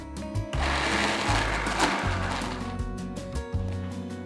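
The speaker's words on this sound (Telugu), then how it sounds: "కొద్దిగా రుబ్బుకున్న తర్వాత ఒకసారి మూత తీసి కలుపుకొని మళ్ళీ రుబ్బుకోవాలి" Soaked black-eyed peas are ground again in a mixer grinder with no water added, the motor roaring loud and steady and pulsing unevenly in several bursts as the thick batter churns in the jar.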